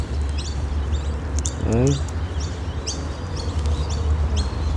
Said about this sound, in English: These animals, these parrots are so smart, it's unreal.